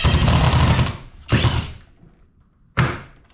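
A Seesii WH700 impact wrench drives a screw in three bursts: a long buzzing, hammering run, a shorter burst, a pause, then a final short burst, each loud and close and cutting off abruptly.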